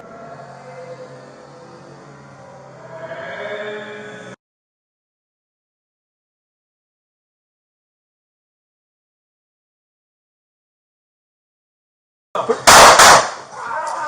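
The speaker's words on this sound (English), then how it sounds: "signal 43, shots fired." Gunshots during a police encounter with a suspected armed gang member inside a 7-Eleven store, where a deputy opens fire: after a murmur and a long silence, a sudden loud cluster of sharp bangs erupts close by.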